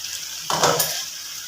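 Chicken pieces frying in a pan for Afghani chicken, a brief burst of sizzle rising suddenly over steady background hiss, with a faint clink of utensils, moderately close.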